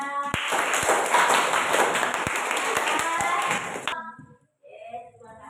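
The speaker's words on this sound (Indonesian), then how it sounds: "tepuk tangannya meriah" Schoolchildren in an Indonesian classroom burst into lively clapping, a loud, busy patter with a few sharp thumps mixed in, cutting off abruptly before a teacher speaks.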